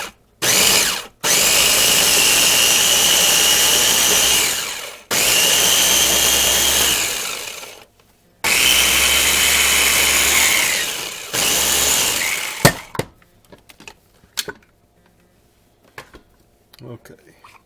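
An electric grain mill grinds sprouted wheat berries from a local farmer in a kitchen, running in four loud, harsh, steady bursts of about three seconds each, separated by short pauses, before falling to quiet handling clatter.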